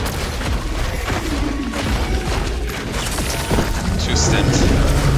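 Stingray airstrike explosions in Helldivers 2 pound in dense, continuous booms and crashes during battle, loud and heavy throughout, with players talking over the blasts.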